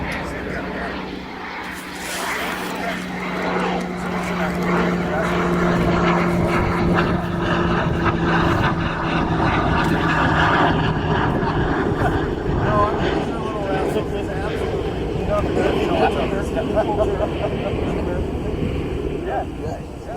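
Cessna Citation jet arriving on runway 36 at Oshkosh, a sustained loud engine roar with a whining tone that drifts in pitch, while people chat continuously over it.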